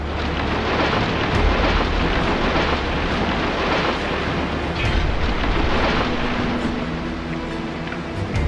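Thunderstorm over a town, with dense, steady roaring wind and rain noise and low rumbling thunder throughout, loud and continuous with no voices.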